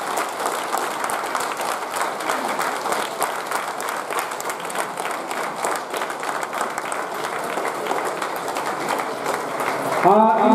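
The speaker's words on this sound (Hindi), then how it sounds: "ताली जितनी तगड़ी बजाएंगे उससे आपका प्रेशर कम होगा" A group at an International Yoga Day session on 21 June claps hard and fast in a steady, continuous roar of applause that lasts throughout, with a voice coming in at the very end.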